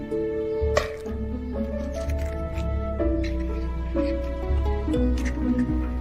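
Eggs are cracked and separated by hand, giving a few soft taps and wet squishy sounds spaced out over several seconds, with quiet talk running alongside.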